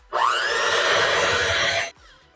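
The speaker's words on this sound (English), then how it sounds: "But I have a hand mixer I can use." An electric hand mixer whirs steadily for about two seconds while beating a thick cheesy bread batter, its motor starting with a rising pitch and cutting off abruptly.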